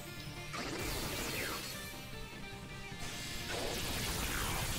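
A Thunderbolt electric attack in Pokémon Scarlet/Violet bursts out as a loud, dense crackling crash with sweeping zaps, sustained for several seconds with no talk.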